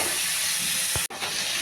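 Turmeric stirred into a frying pan of long beans with peanuts and mustard: a steady, close sizzle fills the whole stretch, broken by one soft knock of the spoon near the end, with no talking.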